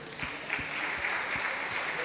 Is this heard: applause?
yes